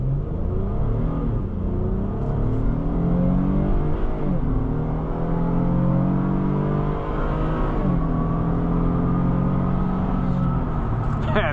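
The V6 engine of a 2026 Honda Passport TrailSport pulls steadily from the cabin, a continuous low drone that rises in pitch through several gear changes, heard from inside the cabin on the road.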